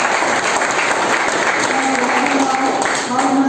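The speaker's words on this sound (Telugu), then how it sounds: "వాళ్ళకి చప్పట్లతో అభినందించారు" A crowd at a 2021 Coastal Andhra atheist conference claps in sustained, dense applause that fills the whole stretch at steady loudness.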